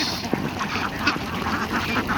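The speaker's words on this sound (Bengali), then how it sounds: "অনেকগুলা হাঁস।" A flock of farmed ducks quacking together on a duck farm near a river in Bangladesh, a dense overlapping chorus of calls close by, continuous throughout with occasional louder quacks standing out.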